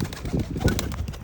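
Tiger 1, a racing pigeon, is let go for a single training toss: a short, close burst of rustling and wing flaps lasting about a second.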